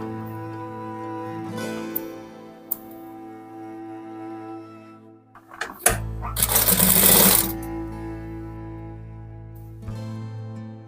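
A sewing machine stitches the folded collar of a shirt with stiff interfacing, running in a loud, steady burst near the middle of the clip after quieter handling sounds, with no talk.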